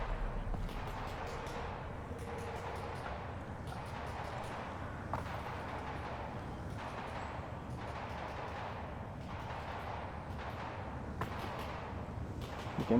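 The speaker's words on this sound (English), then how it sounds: "You can hear the gunfire" Distant gunfire pops in irregular bursts throughout, muffled and faint over a steady low background rumble, as Combine forces fight zombies in the video game Half-Life: Alyx.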